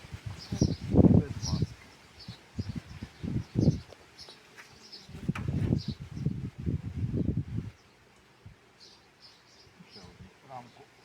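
Honey bees on hive frames from a Polisianka colony, buzzing faintly and intermittently behind someone speaking close by throughout.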